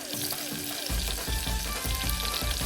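Garlic and chili paste sizzling and frying in hot oil, a steady close crackle with soft stirring scrapes repeating through it.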